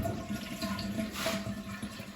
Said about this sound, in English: So obviously then just flush so that all water goes out.